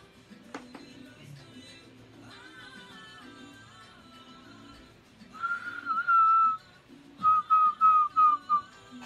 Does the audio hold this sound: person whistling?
yes